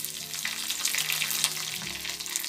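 Mustard seeds, chopped dried chillies and curry leaves crackle and sizzle in hot coconut oil, making a dense, steady spitting hiss up close with no talking.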